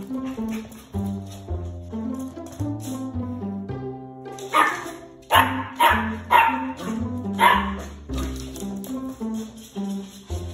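A small Morkie dog barks in high yips at its own mirror reflection. The barks come in a quick series that grows louder midway, over light music in the background.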